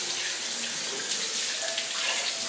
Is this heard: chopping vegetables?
no